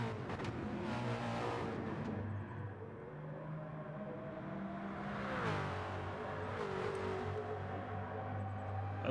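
Porsche and Nissan LMP1 prototype race cars in a Le Sarthe racing game with no chicane: a loud, sustained engine drone with rising and falling revs as the cars race, no talking.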